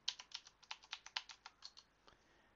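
Password typed on a Mac computer keyboard: a quick run of about fifteen crisp, closely spaced keystrokes, close and fairly quiet, with no talk, easing off toward the end.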